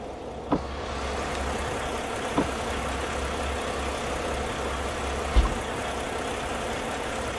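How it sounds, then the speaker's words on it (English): A truck engine in a truck-driving video game runs with a steady, even drone, joined by a few faint clicks, and no voices over it. "Yes, let's hear that engine roar."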